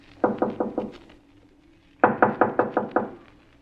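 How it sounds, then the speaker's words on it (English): Knuckles rap on a wooden door in two close, sharp bursts: four quick knocks, a pause, then six more, with no talk over them. "Now knock."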